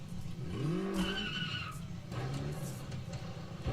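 Rally car in the racing game AC Rally skids and slides through roadside fencing, tires squealing in rising and falling tones over a rumbling engine.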